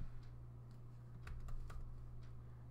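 Typing on a computer keyboard: a short run of light, scattered key clicks over a steady low electrical hum.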